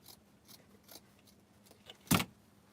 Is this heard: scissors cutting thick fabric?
yes